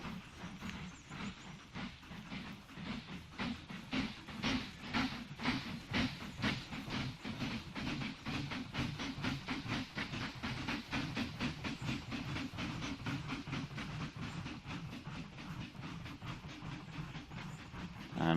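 A train runs in the Mashinky railway game, a steady rhythmic clickety-clack of wheels over rail joints with a low rumbling hiss, evenly paced and continuous throughout.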